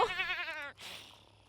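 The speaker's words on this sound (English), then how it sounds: "Did that goat just hiss at us?" A goat from The Sims 4 Horse Ranch gives a short wavering bleat that cuts off into a brief breathy hiss, quiet and close, with no talking.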